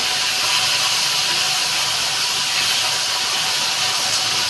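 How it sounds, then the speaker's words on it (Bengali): Okra (bhindi) fries in a hot pan with a loud, steady sizzle and hiss that runs without a break, close up and with no talk. "এবার আমি ভিন্ডি ভাজবো।"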